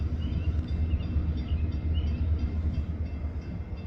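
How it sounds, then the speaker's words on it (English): A long freight train rolls steadily past on the tracks close by, a continuous loud rumble of wagons with faint metallic squeals and clatter throughout. "We'll let the head of the train go by,"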